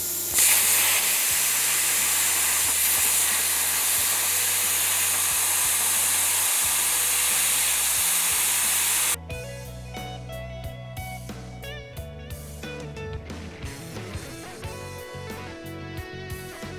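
A sparking cutter slices through a Subaru crankshaft with a loud, steady hissing rush, then the tone shifts to a harsher, ringing grind with quick metallic variations for the remaining seconds.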